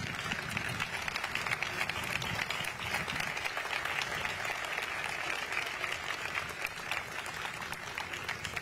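A crowd claps steadily at a local political party's launch event, a dense, continuous burst of applause with scattered cheering mixed in, holding strong throughout and tapering only slightly near the end.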